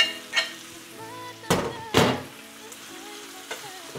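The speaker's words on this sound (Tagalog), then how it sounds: "Lagyan na natin yung kamatis. Ayan. Para maluto." Tomatoes being dropped into a pan to fry for an egg, tomato and onion dish, two sharp knocks of a utensil against the pan over a faint sizzle, with no voices.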